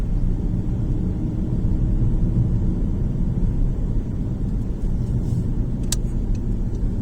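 A car driving along a road in summer, heard as a continuous low rumble of engine and road noise from inside, steady and unbroken with no talk over it.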